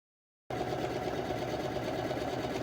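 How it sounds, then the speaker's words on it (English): A sewing machine runs steadily along the top edge of a satin waistband, a continuous close, even mechanical whir after a brief silent start. "Sew all the way down the top edge."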